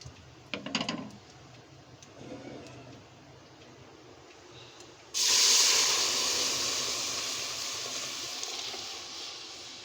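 Dried chilli fries in hot oil, then masoor dal cooked with chalta is poured in for tempering. A faint crackle comes first, then a sudden loud hiss bursts in partway and settles into a steady, slowly fading sizzle.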